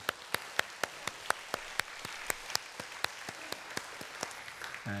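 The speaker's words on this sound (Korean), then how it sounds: "우리 하나님께 정말 감사의 박수 한번 드리겠습니다" Church congregation applauding during a Sunday worship service, a steady run of evenly spaced claps heard close and moderately loud with no voices over it.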